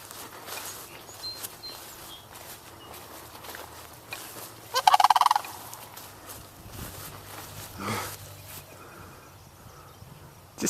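Sandhill cranes call near a raspberry patch on a farm, with a brief loud rattling squawk burst midway over faint outdoor ambience and scattered rustling.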